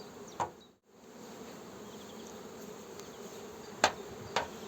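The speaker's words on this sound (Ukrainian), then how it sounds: "Це є бджола Бакфаст." Buckfast honey bees buzz steadily at close range, a dense continuous drone with a few brief clicks and knocks.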